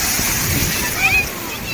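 Waves wash and splash along a shore at Udaipur, a steady rushing slosh of water heard close and loud throughout the short stretch.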